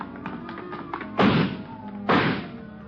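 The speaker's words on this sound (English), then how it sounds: "he broke through the garage doors" Garage doors are broken through in a 1949 radio crime drama sound effect: two heavy, loud crashing thuds about a second apart, preceded by a quicker series of softer knocks and taps.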